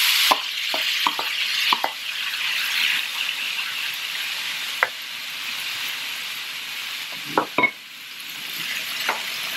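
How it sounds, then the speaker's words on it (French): Tomatoes hitting a hot pan with garlic, a steady broad sizzle and hiss throughout with occasional sharp clinks and scrapes of stirring, close and loud. "Et là, on met les tomates."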